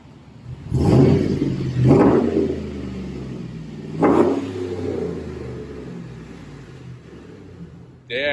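Chevrolet Silverado work truck with a 5.3 engine and deleted muffler, keeping its resonator and catalytic converters, revving in several loud throaty bursts with a deep rumbling idle between them, close by and without talk.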